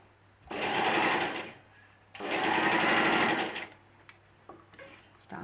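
Two loud, close bursts of a sewing machine stitching a hem in a fabric square, each lasting over a second, separated by a pause, followed by faint clicks and handling noise.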